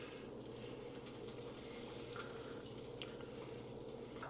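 Prime rib roast sizzling steadily during basting, with continuous crackling fat and juices and faint stirring or spooning noises on top, close and moderately quiet, without talk.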